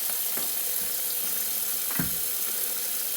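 Tap water runs steadily while dyed cotton and Tencel yarn skeins are rinsed under it, a constant close hiss broken by a few soft splashes and handling sounds.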